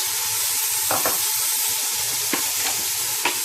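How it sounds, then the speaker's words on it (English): Green peas, potatoes and carrot sauté with browned onions in a hot pan, giving a steady bright sizzle broken by several scraping stirs of a spatula. "Just saute them a bit."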